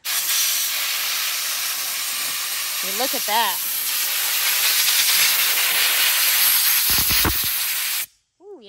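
Compressed air blasting grass clippings out from under a lawn mower deck, a loud steady hiss lasting about eight seconds before cutting off, with a few brief spoken words over it.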